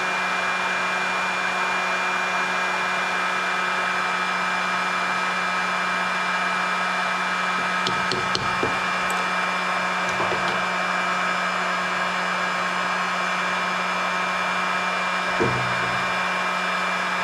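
A heat gun blows hot air over a freshly painted Goby-pattern fishing jig, a loud steady roaring hiss with a constant hum that runs unbroken throughout, with a few faint clicks and taps partway through.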